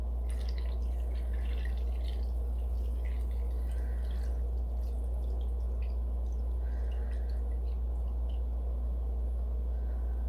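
Red dye liquid, mixed with citric acid, is poured into a container for fabric dyeing, a soft steady trickle with scattered drips over a strong low hum, close by and without speech.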